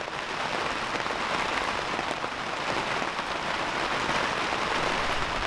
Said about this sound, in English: a little pitter patter of rain